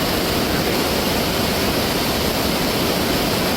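Loud, steady roar of a swollen mountain stream in flash flood, its water rising by the second, with no break or talk.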